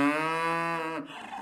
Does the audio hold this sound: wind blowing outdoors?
no